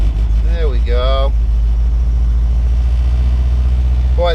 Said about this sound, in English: Boy, the car just wants to run.